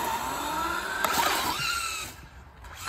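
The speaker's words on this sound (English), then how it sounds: "There's a few cars driving by right now." Cars passing on a nearby road outdoors, a moderate engine whoosh that rises and fades over a few seconds, then drops away toward quiet.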